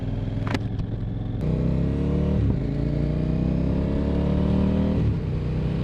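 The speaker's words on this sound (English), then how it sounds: "the wind noise is really, really loud inside a helmet" A CFMoto Ibex 800S motorcycle engine drones steadily while riding, with gear shifts and rising pitch, heard inside a helmet with a constant loud roar of rushing wind close by.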